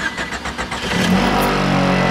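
A 1991 Honda Civic Wagon RT4WD engine starting and running with a rattle, beginning with a chattering crank that settles into a loud, steady idle hum close by, no talk.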